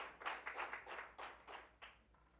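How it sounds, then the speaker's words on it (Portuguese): Congregation applause at a church service, a burst of clapping from a crowd lasting a couple of seconds, fairly soft and steady with no voices over it. "dá uma salva de palmas para ele"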